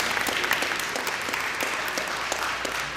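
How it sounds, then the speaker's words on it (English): High school students at a youth town hall clap, brisk and crisp with distinct individual claps standing out in a steady, fairly loud round of applause. "So clap it up for you guys."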